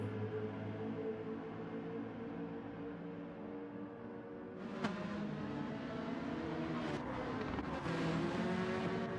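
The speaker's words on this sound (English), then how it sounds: "What the hell are all those cars, man?" Several race cars in Gran Turismo 7 drive by during a championship race, producing a steady, loud engine drone with a sharper pass-by swell midway and more engine sound building near the end.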